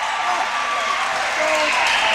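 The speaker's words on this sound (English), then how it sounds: "And the crowd goes wild." High school basketball crowd in a gym, with an energetic student section roaring and clapping after a basket. The loud, continuous cheering fills the whole moment with no break.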